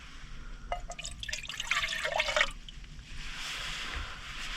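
About three-quarters of a cup of water is poured for a dehydrated camp sausage gravy meal while car camping, giving a brief close splashing trickle with drips, then a soft, steady wash of background noise.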